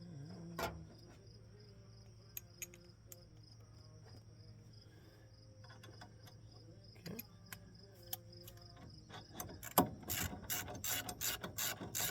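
A hand ratchet snugs down the new brake bracket bolts on an 1987 Trans Am during an LS1 brake swap, faint clicking bursts scattered through a quiet garage, building to a quicker, louder run of clicks near the end.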